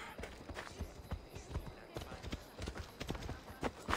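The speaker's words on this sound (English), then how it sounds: "Guess I'll call my horse." Hooves clop in a quick, steady galloping rhythm throughout, fairly quiet and even, with a faint voice briefly underneath, from the video game Assassin's Creed Odyssey.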